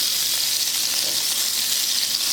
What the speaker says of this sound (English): So the butter is melted, we'll add the cinnamon, the onions,